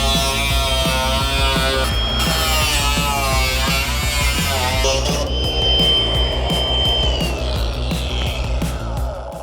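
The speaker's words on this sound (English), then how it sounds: "so time to start grinding" Angle grinder working a steel car body panel on a VK restoration, a loud continuous whine with a steady pulsing drone throughout, close and shifting pitch midway.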